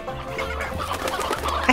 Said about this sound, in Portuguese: porque tem muita galinha aqui